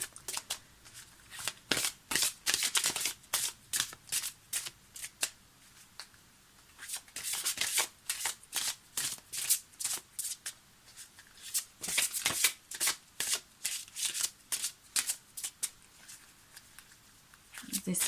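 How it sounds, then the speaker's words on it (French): Oracle cards being shuffled by hand before one is drawn, a rapid run of crisp riffling bursts that start and pause unevenly for about eighteen seconds, fairly close and clear. "On va donc maintenant tirer la carte conseil de l'oracle des artisans de lumière"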